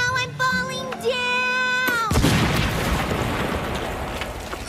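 A cartoon explosion goes off in a cave, a sudden booming blast that follows tonal cartoon sounds and then settles into a long rumbling, crackling wash of debris and echo.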